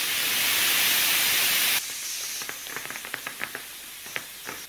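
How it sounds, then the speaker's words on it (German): Air rushing out of a mountain bike tyre valve in a loud, steady hiss that stops abruptly partway through, followed by quiet clicks and handling noises. "wir schrauben erstmal den Deckel hier ab und lassen ein wenig die Luft raus"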